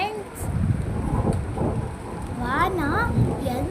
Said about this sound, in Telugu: వాన ఎంత పడుతుంది చూడండి ఫ్రెండ్స్